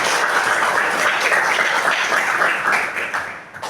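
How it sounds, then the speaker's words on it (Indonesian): A classroom of students in a teacher-training lesson gives a steady burst of applause, dense overlapping claps lasting several seconds, fairly close and loud before tapering off at the end. "Tepuk tangan kita."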